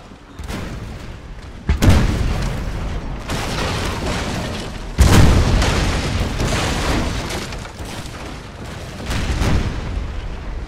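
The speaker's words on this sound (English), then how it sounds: "The amount of gunfire we're putting down on this." Heavy booms and blasts of artillery and musket fire in the video game Napoleon: Total War roll on continuously, with two sharp loud impacts standing out over a dense, rumbling battle din.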